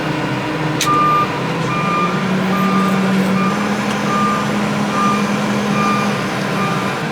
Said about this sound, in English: there goes the lorry